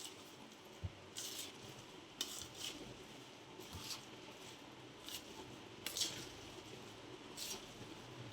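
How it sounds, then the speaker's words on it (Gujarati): Garlic, mango and chickpea pickle being stirred with cooled oil, a spoon knocking and scraping against a metal vessel in repeated clinks and soft squelches, close and fairly quiet with no talking. "આ રીતે આપણે મિક્સ કરી લેવાનું તેલ નાખી."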